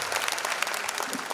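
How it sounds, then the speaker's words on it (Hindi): Dense, sustained applause from an audience filling an auditorium at a Hindi kavi sammelan on Republic Day, loud and continuous with no voices over it. "तालियां बजा दें"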